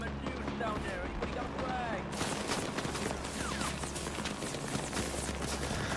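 Dense, continuous gunfire rattles through a Vietnam-era battle in the video game Rising Storm 2, with overlapping rifle and automatic bursts near and far, and voices faintly mixed into the din.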